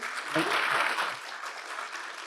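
An audience at a live event in Princeton breaks into applause, a dense wash of clapping that swells early, then tapers off slightly while continuing steadily to the end.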